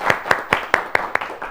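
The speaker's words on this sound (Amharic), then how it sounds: "እሺ አጨብጭቡላቸው።" A studio audience claps for children on an Ethiopian children's TV show: six sharp, evenly spaced claps, close and fairly loud, with no talking.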